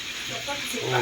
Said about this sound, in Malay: Goreng ayam.